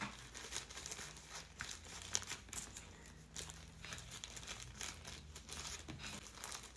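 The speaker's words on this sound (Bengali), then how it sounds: "বীজগুলা দিয়ে টিস্যুটা ভালো করে চারপাশে মুড়ে এইভাবে মুড়ে একটা জিপলক ব্যাগের মধ্যে করে রেখে" Soft tissue paper crumpling and crinkling as it is wrapped around pepper seeds and tucked into a ziplock bag, a close, quiet rustle with intermittent crisp crackles and no talk.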